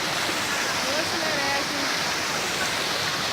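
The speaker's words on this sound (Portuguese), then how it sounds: "Cachoeira do Robertão, distrito de Amparo, Barra Mansa." Cachoeira do Robertão, a waterfall in the Amparo district of Barra Mansa, roars in a steady, loud, unbroken rush of falling water that fills the whole scene.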